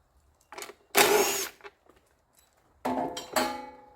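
A motorized power tool, used on a Cub Cadet LT1045 mower with a Kohler Courage engine during valve cover work, whirs in two short bursts separated by quiet handling noises.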